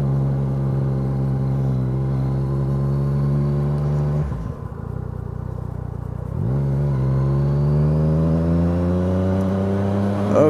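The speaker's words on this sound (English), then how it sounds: "Oh man, that exhaust is so much better. Listen to that." Car fitted with a new aftermarket exhaust revs up close by, a sustained loud engine drone with a brief dip as the revs drop, then climbing and holding high again.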